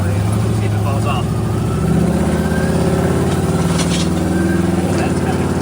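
A car engine hums loud and close from inside the cabin during spirited driving on a road, the drone rising and shifting in pitch as it accelerates, with someone talking over it.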